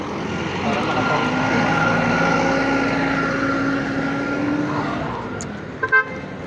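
Cars pass in city traffic at Bonifacio Global City, with a constant close road roar, a sustained horn tone in the middle and a couple of short toots near the end.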